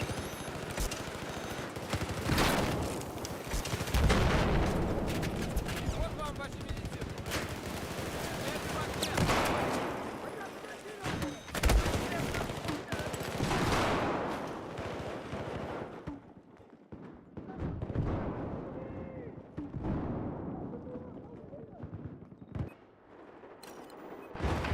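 In Battlefield 4, machine gun fire crackles in bursts amid heavy sustained gunfire and explosions, loud and continuous for most of the stretch before thinning out, with voices talking over it.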